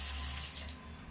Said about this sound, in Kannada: ಸ್ವಲ್ಪ ನೀರು ಸೇರಿಸಿ, ಗಟ್ಟಿಯಾಗಿದೆ, ಸ್ವಲ್ಪ ನೀರು ಸೇರಿಸ್ತೀನಿ.